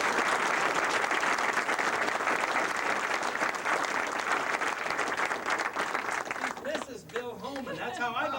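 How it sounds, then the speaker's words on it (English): A crowd gives a round of loud, dense applause that holds steady for several seconds, then thins out as a voice begins speaking over the last of the clapping. "Give her a round of applause."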